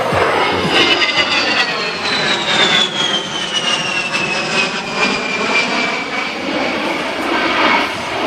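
A military jet roars past during an airshow slow-roll pass, with a loud, sustained engine rush and a whine that falls in pitch as it passes, filling the whole stretch at close range.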